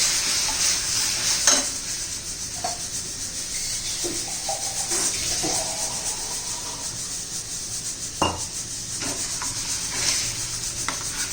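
Turmeric and red chilli powder sizzle in hot oil tempering for kadhi while a spoon scrapes and stirs the pan, giving a steady close hiss broken by scattered clinks and rubbing sounds, with no talk.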